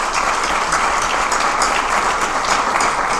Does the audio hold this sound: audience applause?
yes